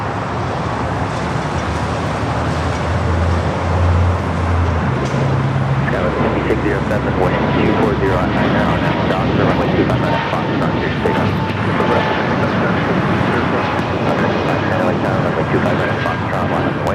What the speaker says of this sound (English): Air Canada 788 taking off to Toronto on the A220-300